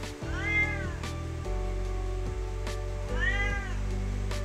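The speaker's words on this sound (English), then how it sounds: "look at this cat" A cat meows twice, each call a clear rising-then-falling wail about three seconds apart, close and loud over a steady low hum in an indoor room.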